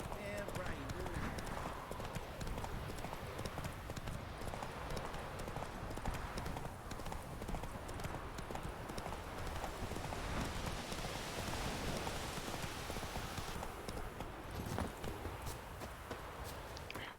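Hoofbeats from the horse Roach galloping in Witcher 3: Wild Hunt form a fast, continuous clatter under a dense game soundscape that sounds like rain, with someone talking over it.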